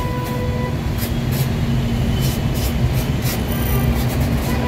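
A Delhi Metro train passes near Ramesh Nagar metro station, heard from a roadside repair shop as a steady, loud rumble with a run of rhythmic clicks from the wheels.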